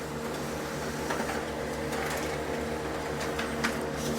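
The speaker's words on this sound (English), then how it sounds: "now press the print button. It's quite quick to print." A Brother HL-L2405W laser printer prints a page, giving a steady, close mechanical whir and hum with faint clicks throughout and no talking.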